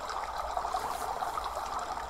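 Waterfall spilling into a pool in a quiet alcove, a steady soft rush and trickle of falling water, continuous and even throughout with no voices.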